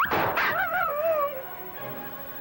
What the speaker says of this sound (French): Milou, qu'est-ce que tu as aboyé?